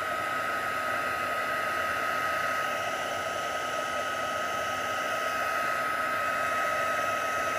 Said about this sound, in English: So now I'm just going to heat set this.